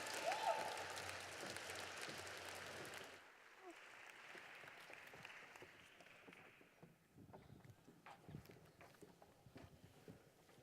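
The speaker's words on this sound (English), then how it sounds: "Let's give them one more round of applause." Audience applause honoring award-winning teams at the LIPPY Awards ceremony, a broad wash of clapping from a crowd that swells briefly, then fades after a few seconds into scattered lighter claps and faint room noise.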